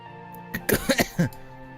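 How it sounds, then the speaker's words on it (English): A male character in the video game Fate/Grand Order coughs and clears his throat, a quick cluster of three or four rough bursts over a steady low background hum. "Winky's so flustered he's coughing."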